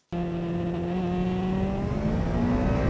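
A motorcycle engine holds steady revs on light throttle through a corner, a loud continuous droning tone starting abruptly and staying even, with pitch drifting slightly, no talk over it.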